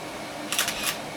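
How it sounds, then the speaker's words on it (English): Shutter of a Minolta Dynax 8000i SLR camera firing once: a quick mechanical clack and whir, close and crisp, made of two bursts a fraction of a second apart against a quiet room. "Listen to the shutter."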